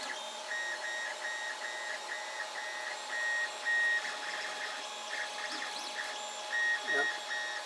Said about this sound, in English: My threaded rods are squeaking every time they turn down a new level.